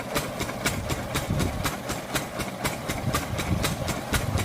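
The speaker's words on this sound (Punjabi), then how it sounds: "ਆ ਆਪਣਾ ਇੰਜਨ ਚੱਲੀ ਜਾਂਦਾ" An engine driving a water pump in a field, with the motor set three feet above the ground, runs with a steady, rhythmic thumping beat that stays close and even throughout.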